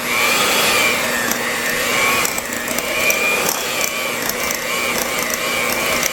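An electric mixer whirs and churns steadily while blending pimento cheese with mayonnaise, a close, continuous mechanical whir with slight rhythmic wobble and no talking.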